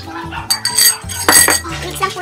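Cuchinta batter being mixed in a bowl with a utensil, a run of clinks and scrapes of metal against the bowl in irregular bursts, close and fairly loud, with faint background voice.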